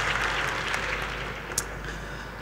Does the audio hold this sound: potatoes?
no